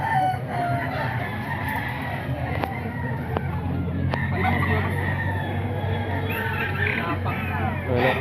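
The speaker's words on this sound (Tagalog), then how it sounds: "Manok ni Boss Joey." A rooster for sale at a Filipino grotto market crows amid a busy outdoor crowd, with several short sharp calls and clucking over steady chatter and background bustle.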